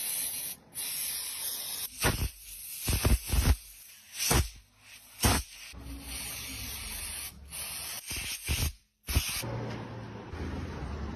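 Short, loud hissing bursts of spray wash motorcycle carburetor jets, irregular blasts of about a second each separated by gaps, close to the ear with no voices.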